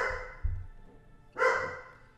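A half German Shepherd dog gives two loud, close barks about a second apart, indoors with no talk over them.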